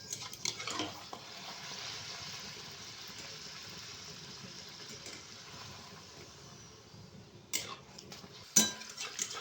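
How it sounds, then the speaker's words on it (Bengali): Atta luchi, wheat-flour puris, fry one at a time in hot oil, giving a steady soft bubbling sizzle with a few sharp utensil clinks near the end. "সব একসাথে বেলে নিয়েছি, এবার একটা একটা করে ভেজে নেব। দেখো কত সুন্দর ফুলছে।"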